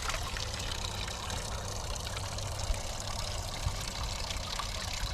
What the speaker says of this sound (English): it's shooting water